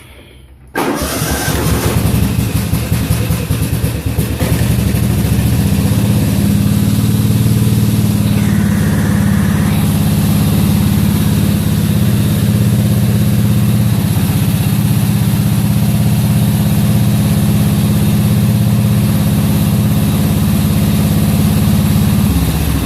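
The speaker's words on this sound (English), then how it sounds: "Finally got home and obviously got this lawnmower started" A riding lawnmower engine cranks and catches after a brief quiet moment, then runs loud and steady close by at a rough idle, a constant low drone without talk.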